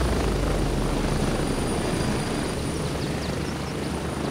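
Steady roaring rotor and engine drone of a helicopter touching down in the video game Gray Zone Warfare, loud and continuous throughout with no pauses.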